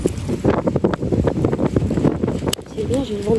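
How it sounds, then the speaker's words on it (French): Wind blows from behind while someone walks a dog, likely in snow, giving a gusty rumble against the microphone beneath close, continuous talking. "C'est bien, j'ai le vent dans le dos."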